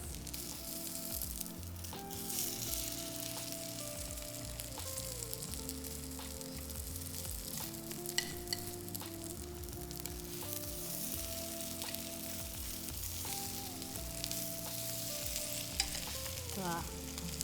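A dish fries slowly in a pan in a restaurant kitchen, giving a continuous close sizzle with stirring scrapes and a low tonal hum beneath, no speech.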